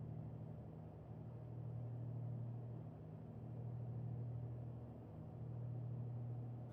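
The twin piston engines of a PA34 Seneca in Microsoft Flight Simulator drone low and steady after the throttles are pulled back, a soft, even rumble with no other sounds.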